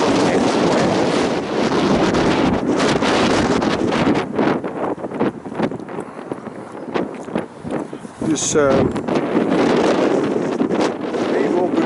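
Strong outdoor wind in Spijkenisse roars and buffets the microphone in continuous gusts, close and loud, with someone talking over it throughout.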